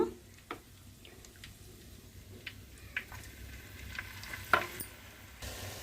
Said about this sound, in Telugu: ఆయిల్ వేడైపోయిందండి ఇప్పుడు మసాలా వేసుకుంది మసాలాలను ఇందులో వేసుకుందాము